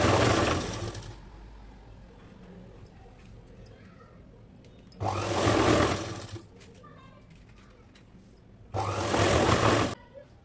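A sewing machine stitches a double-folded sleeve seam on a ready-made dress top in three separate bursts of rapid, buzzing run, each about a second long, with quiet pauses between.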